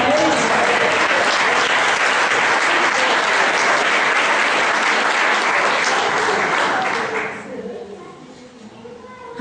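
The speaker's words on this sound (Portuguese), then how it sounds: "uma salva de palmas" A church congregation breaks into sustained applause during an evening Sunday service, loud and dense for several seconds before fading away, with faint voices underneath as it dies down.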